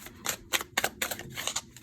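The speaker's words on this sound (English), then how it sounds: "Let's do 3 shuffles." Tarot cards being shuffled by hand, a series of quick crisp riffling bursts in uneven rhythm, close and fairly quiet, with no talk.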